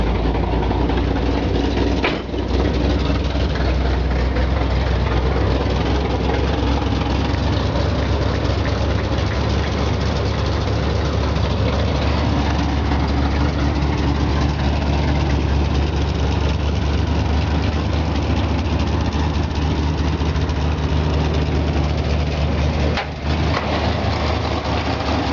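A 1955 Ford F100 with a 302 V8 idles cold after a fresh start, a steady loud low rumble holding even throughout with a couple of brief knocks.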